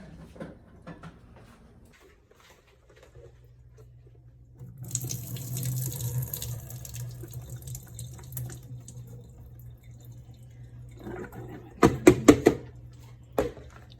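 Boiled potatoes poured into a kitchen sink to drain, a broad rush of running water lasting several seconds, followed by a few short clattering knocks of pot or lid.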